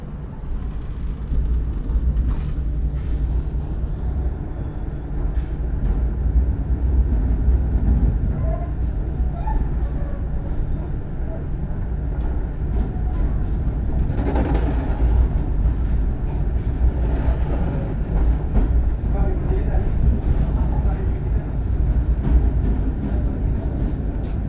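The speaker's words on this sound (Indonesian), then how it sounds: "kereta api Argo Parayangan tambahan diberangkatkan dari stasiun Bandung Kiara Condong" Argo Parahyangan passenger train departing Bandung Kiaracondong station, heard from inside as a steady, loud rumble of rolling wagons with faint clickety-clack over the rails throughout.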